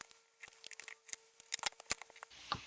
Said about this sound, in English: you're going to cut along the dotted lines